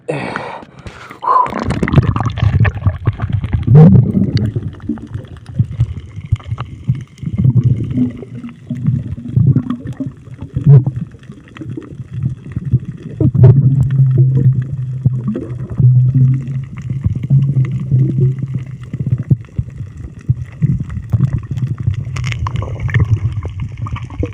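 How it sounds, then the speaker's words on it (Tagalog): A strong river current churns and gurgles in a heavy, continuous low rush with sloshing surges, loud and close throughout. "sobrang lakas ng agos ha?"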